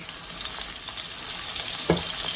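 Iceberg lettuce stir-frying in hot cooking oil, a steady loud sizzle with hissing crackle throughout and one brief knock near the end, close up, no voices.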